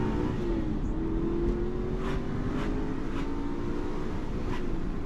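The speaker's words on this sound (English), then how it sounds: "You cannot beat a bloody V8 engine." An Aston Martin V8 Vantage's V8 engine runs loud and steady from inside the cabin, with a continuous engine drone and rising revs as it pulls through the gears, and no talking.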